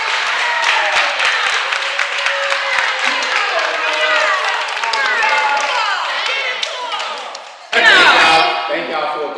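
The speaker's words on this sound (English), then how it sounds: "Let's clap it up for our guest dancers." An audience claps and cheers for guest dancers at a dance session, a dense sustained wave of applause with whoops, then a sharp burst of louder cheering near the end.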